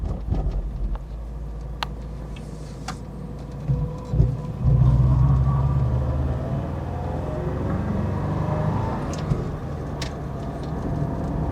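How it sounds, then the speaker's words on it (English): A low, steady flat-four engine thrum from an Alfa Romeo Alfasud rumbles throughout, a deep droning hum that swells slightly partway through and holds at a constant level with no talking. "that classic sort of flat 4 thrum, so akin to Volkswagen Beetles, Subaru Imprezas and the Citroen GSA"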